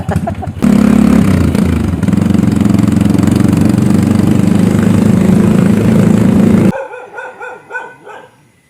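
A motorcycle engine runs loud and close with a steady idle rumble for several seconds, then cuts off abruptly and fades into quieter background sound.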